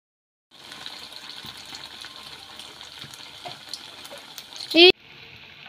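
Potatoes stir-fry in a pan with an even, close sizzle and light scraping, ending in a sudden sharp clatter of utensil against metal before the frying settles again.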